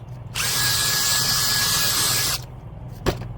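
A power drill with a brush attachment whirs steadily at close range for about two seconds while scrubbing a car interior, then stops, followed by a single short knock.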